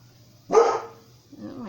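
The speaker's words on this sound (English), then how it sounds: "my dog's barking because he wants to go out front with Dad" A dog wanting to go out front lets out a single sharp, loud bark nearby, followed by a softer whimpering sound.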